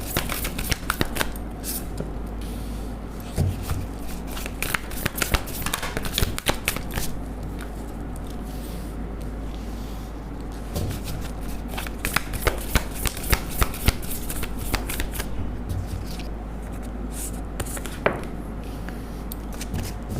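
A deck of tarot cards is shuffled by hand again and again, rapid crisp riffling bursts and soft slaps in uneven rhythm, close and clear for about twenty seconds with no speech.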